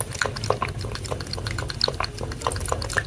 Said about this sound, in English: Cat drinking radioactive water loudly.